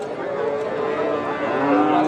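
Cattle low at a busy livestock market in Nilphamari, with one long, loud, sustained moo carrying over the surrounding crowd noise.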